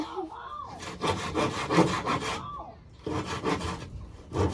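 A hand saw rasps through wood in rhythmic back-and-forth strokes, two bursts separated by a short pause, close and fairly loud.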